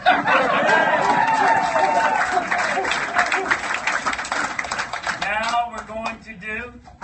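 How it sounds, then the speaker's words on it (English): A room of campaign supporters at a meet-and-greet in Beaverdale applauds the staff, dense clapping close by that thins out and fades toward the end, with some voices and chatter mixed in. "a big round of applause for my able staff"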